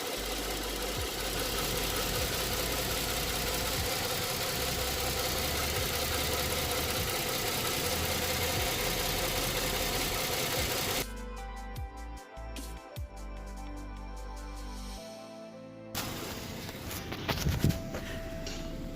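A Ford Edge engine idles roughly while misfiring on cylinder 3 because of a faulty fuel injector, giving a steady, close mechanical drone. The sound shifts partway through to a quieter, uneven running note, with no talking.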